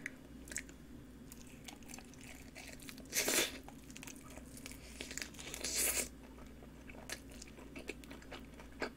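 Someone eats a honey melo chicken drumstick coated in whole grain mustard sauce, with soft close-up chewing and a couple of louder crunchy bites over a low hum.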